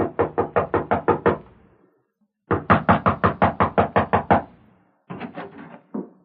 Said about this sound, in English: crossed the porch, and rapped on the door.